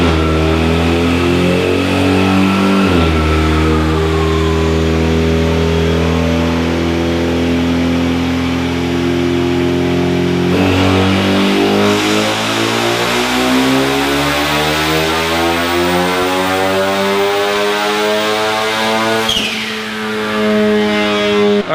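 A Ford EcoBoost Mustang fitted with a drop-in turbo runs hard on a dyno, its engine revving up through the gears in a loud, sustained climbing drone, with a brief dip and renewed rise partway through.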